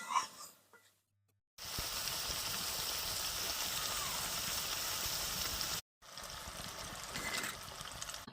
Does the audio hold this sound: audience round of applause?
no